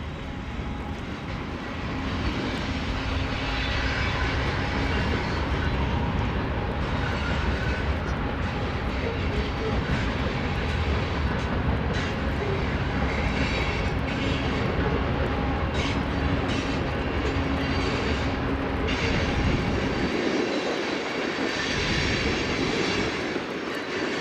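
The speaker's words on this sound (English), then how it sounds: "You'll hear this BNSF grain train going through Cedar Falls." A BNSF grain train with distributed power units rolls through Cedar Falls, a sustained loud rumble of wheels and cars continuing steadily for over twenty seconds before easing slightly at the end.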